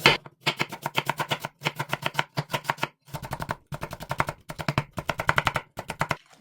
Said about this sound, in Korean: 당근도 가는 채 쳐주세요.